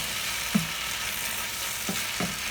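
Napa cabbage stir-fried with sauce in a pan over high heat, a steady broadband sizzle running throughout, broken by three brief spatula scrapes or knocks, moderately loud and close, with no talking.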